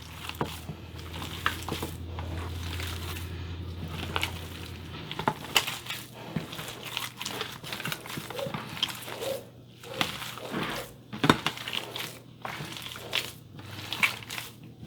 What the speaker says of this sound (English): You gotta mix it in really well.